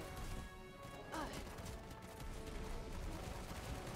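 Rapid-fire magic attack shots in the video game Forspoken, a dense run of repeated impacts and blasts over steady game noise, continuous and loud through the whole stretch.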